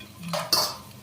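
A spoon clinks and scrapes briefly against a bowl while stirring shrikhand, two quick close metallic taps.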